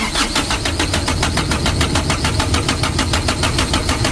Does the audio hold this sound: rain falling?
no